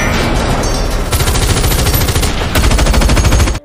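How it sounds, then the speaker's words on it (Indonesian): Rapid machine gun fire from a film rattles continuously in loud bursts, with dense overlapping shots that intensify near the end before cutting off. "Hingga akhirnya salah satu tembakan berhasil melukai leher Jackson."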